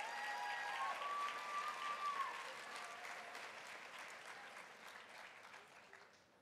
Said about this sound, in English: I think deserves a round of applause for you and about you.